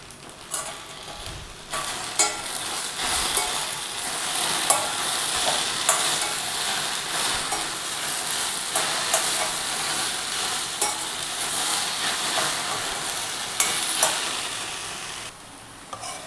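Greens cooking with onion and garlic fry in a pan with a loud, continuous sizzle up close, while a utensil scrapes and clacks against the pan in irregular strokes throughout.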